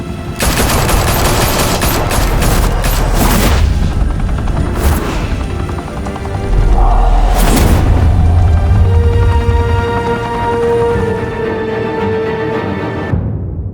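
Gunfire bursts and booming impacts from a Batman: The Telltale Series action scene, loud and dense for the first few seconds, then sustained rumbling, crackling debris and a droning tone as the firing fades.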